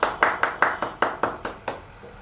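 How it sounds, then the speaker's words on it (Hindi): A few people clap in a steady rhythm of about ten sharp claps that gradually fade, with no talking. "तालियां।"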